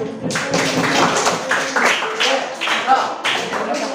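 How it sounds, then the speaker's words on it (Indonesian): A classroom of students claps for a group about to present, a dense, steady patter of many hands lasting several seconds, close and fairly loud, with voices mixed in underneath. "Ayo tepuk tangan."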